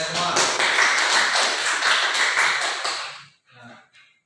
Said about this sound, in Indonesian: beri dulu aplaus untuk kalian semua.